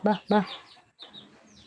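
Two sharp clucks from a chicken nearby, followed by softer high chirps and cheeps, all fairly quiet with no one talking.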